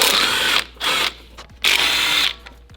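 A power tool or ratchet loosens bolts on a Mazdaspeed3 engine mount in a garage, three close, loud whirring bursts separated by short pauses.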